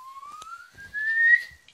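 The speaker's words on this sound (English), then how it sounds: "Comedy whistle" A comedy whistle effect makes a single rising slide-whistle tone that climbs steadily in pitch for over a second, clear and fairly close, with faint background knocks and no speech.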